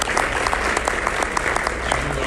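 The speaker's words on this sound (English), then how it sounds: "Let's give them a round of applause." Brief steady applause from a luncheon crowd, many hands clapping close together at an even level.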